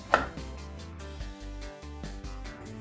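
Scotch bonnet pepper chopped on a board with a knife, a sharp first cut followed by a quick series of lighter, evenly spaced taps, close and clear with no talking.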